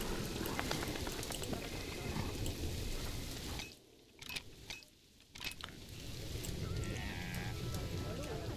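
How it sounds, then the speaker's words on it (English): Heavy rain pours down on a zoo in Planet Zoo, a dense hiss with a rumble of thunder, dipping to near silence briefly in the middle before the downpour returns. "As heavy rains pound our zoo into submission."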